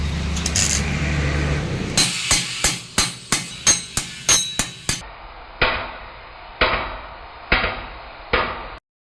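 Sharp hammer taps knock a part loose while a Cooler Master NR200P PC case is built, about fifteen distinct metallic strikes at a steady pace, close and clear, the first few over background noise and the rest in near silence.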